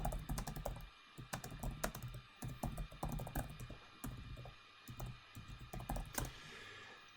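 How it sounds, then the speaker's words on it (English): Typing on a computer keyboard, a close, quiet stream of irregular key clicks and taps in short bursts with brief pauses, with no talk. "if I could type"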